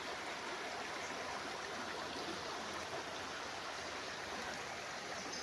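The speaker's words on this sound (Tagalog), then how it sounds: "malinaw po ang tubig. At tuloy-tuloy po ang agos niyan." A clear stream on a farm lot in Liliw, Laguna flows steadily, a soft, even rush of water that stays faint and unbroken throughout, with no voices.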